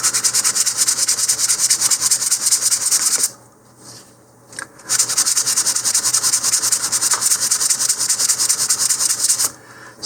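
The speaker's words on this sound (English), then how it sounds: "I'm still sanding in the direction of the grain" Primer on a model rocket being sanded with 220 grit sandpaper along the grain, a steady close scratchy rasp that pauses briefly in the middle before resuming.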